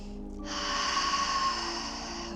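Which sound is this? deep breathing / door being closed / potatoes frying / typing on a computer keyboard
deep breathing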